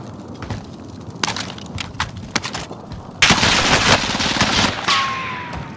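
Bursts of gunfire ring out during a Call of Duty: Modern Warfare match on a rooftop, scattered shots at first, then a dense, loud volley of rapid fire from about the three-second mark that continues to the end, with no talking.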